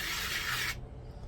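Hand-sanding a 3D printed propeller hub for a Hamilton Standard propeller, a close, steady rasping scrape that stops abruptly partway through, leaving quiet afterward.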